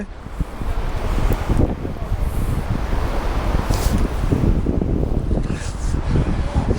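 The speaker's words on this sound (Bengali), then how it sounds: "এমনি তো স্নো অনেক ঠান্ডা এর উপরে পুরা ধুরা বাতাস" Strong winter wind blowing across snow-covered rocks outdoors, a loud continuous rushing roar buffeting the microphone with gusty low rumble throughout.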